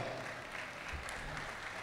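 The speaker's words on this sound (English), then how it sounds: "let's give them another round of applause" Applause from a school event audience for a youth choir, a steady faint wash of clapping with no distinct individual claps, heard from a distance.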